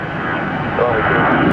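An airliner takes off from an airport runway at Tampa with a loud, broad jet engine roar building steadily, while a voice talks over it.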